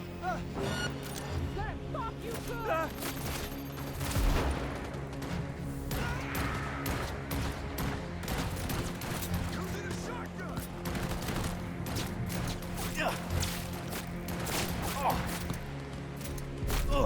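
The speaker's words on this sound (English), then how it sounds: "Silenced pistols just sound so much less impressive." Silenced pistol shots crack repeatedly in a video game as rapid, dry, clipped bursts over a busy hum of background game sound, with voices partly audible underneath.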